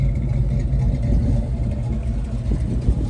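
The cammed V8 engine of a 1988 Ford Mustang Fox body hatchback with a 5-speed manual rumbles steadily at a loping idle, heavy low tones close up with no talking.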